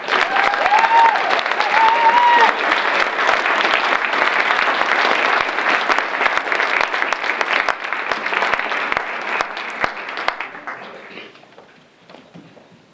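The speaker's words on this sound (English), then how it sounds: "Let's recognize our Associate of Arts degree recipients with one more round of applause." An audience applauds Associate of Arts degree recipients at an annual academic recognition ceremony. Sustained, loud clapping runs with a few cheers and whistles near the start, then gradually fades away over the last couple of seconds.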